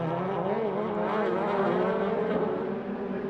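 DTM touring cars racing on the Norisring street circuit in 2000, several engines blending into a loud, sustained roar with shifting pitches as the pack runs close together.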